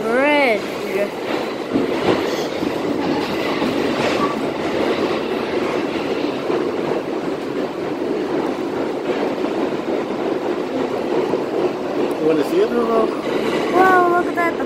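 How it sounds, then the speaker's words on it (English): A New York subway 5 train runs on the tracks toward its last stop near Brooklyn Bridge, giving a steady, loud rumble with occasional wheel squeals throughout, and voices can be heard talking over it. "a five train to the station as we approach the station at its last stop"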